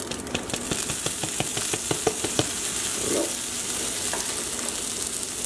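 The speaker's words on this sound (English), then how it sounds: "we're going to put the white portions of the green onion in" Sliced white portions of green onion sizzle and crackle in about two teaspoons of hot oil in a pan, a close, steady fry with frequent sharp pops and a brief stirring scrape partway through.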